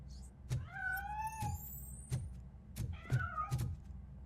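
A cat in the Robocop: Rogue City video game gives a few faint, drawn-out meows between soft thumps and clicks, quiet against a low ambient hum.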